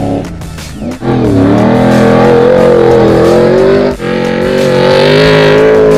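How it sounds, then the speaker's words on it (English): A Mickey Thompson trophy truck engine revs loud and close in a Stadium Super Trucks test, rising and holding high with two brief throttle lifts before climbing again, no voices over it. "testing this new Mickey Thompson trophy truck for 2012-13"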